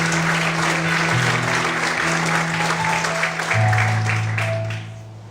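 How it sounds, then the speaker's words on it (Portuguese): Congregation applause at an evangelical church service, thick continuous clapping over a held organ-like tone, swelling briefly then fading out at the end. "Você pode aplaudir um pouquinho mais forte."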